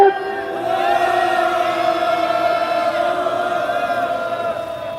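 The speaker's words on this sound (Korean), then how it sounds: "야유의 함성 3초간 질러보겠습니다" A protest crowd at a press conference condemning the Haenam county head lets out a sustained jeering shout, many voices blending into a steady, loud roar that holds for several seconds.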